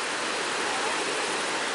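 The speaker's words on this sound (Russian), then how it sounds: "Маша, какая река? Чималка это?" The Chemal river rushes near a suspension bridge in the Altai, a loud, steady, broadband roar of fast-flowing water heard alone.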